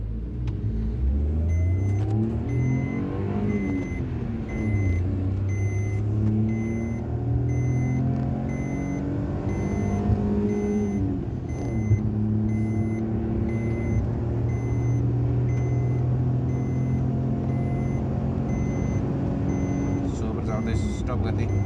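A Maruti Suzuki Alto 800 BS6 small car accelerating hard from standstill toward 100 km/h, its engine revving up through several gears with rising whines and dips at each shift, heard from inside the cabin with a voice talking over it.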